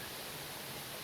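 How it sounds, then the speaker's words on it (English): A tall jungle waterfall, about 60 feet high and flowing lighter than usual, gives a constant hissing rush of falling water, unbroken and fairly soft, without talk. "It's quite a tall waterfall here."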